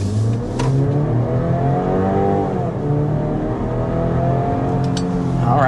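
An SUV, either a 2026 Audi Q5 or a 2025 BMW X3, accelerates from a standstill to 60 mph slightly downhill, its engine note rising steadily through the gears, close and loud inside the cabin.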